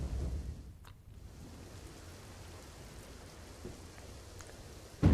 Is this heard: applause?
no